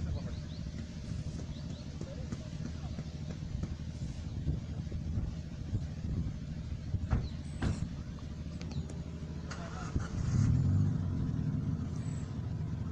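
A Suzuki Vitara 4x4 with worn tyres climbs a muddy off-road track, a steady low engine rumble rising into a louder surge of revs near the end, with other vehicles waiting their turn.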